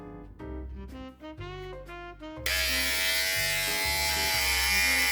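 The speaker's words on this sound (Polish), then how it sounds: "Dlaczego golę głowę na łyso?" An electric razor shaves a head bald, a close, loud buzzing that grows harsher and fuller as the blades meet hair midway through, over a tonal musical background.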